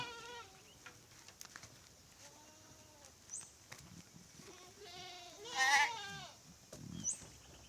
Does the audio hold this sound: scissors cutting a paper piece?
no